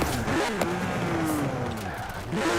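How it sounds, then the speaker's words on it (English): A race car with a sequential race gearbox in Forza Horizon 4 revs up and shifts, engine pitch climbing then dropping sharply at each gear change, a few quick shifts over a steady close engine drone. "Now listen to the gear changes. That's the sequential race gearbox"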